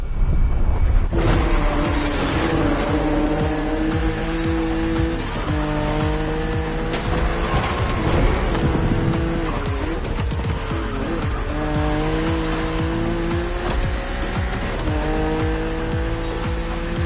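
A BMW Z4 E89 coupe cabriolet is driven hard in The Crew Motorfest, its engine droning loudly and steadily while the tires squeal in repeated skids throughout.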